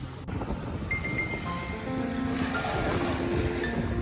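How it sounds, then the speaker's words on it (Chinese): Sea waves wash over a pebbly beach, a steady close rush of surf with wind noise and a few faint higher tones, no voices present. "海浪"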